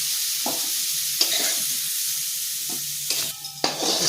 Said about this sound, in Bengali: দেখুন সজনের ডাঁটাগুলো বেশ লাল করে ভেজে নিয়েছি